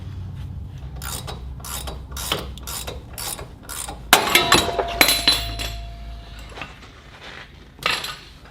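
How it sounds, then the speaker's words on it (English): Mechanic's tools working loose the upper ball joint on a Ford Bronco, a series of metallic ratcheting clicks and sharp clinks from close by, with a louder burst of metal knocks midway. "Now we got to separate the ball joint."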